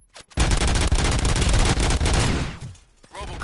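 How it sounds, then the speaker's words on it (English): Rapid gunfire in the Robocop Rogue City video game on PS5, a dense loud fusillade of overlapping shots that runs for about two seconds, tails off, then resumes briefly. "Gunshots? What's going on?"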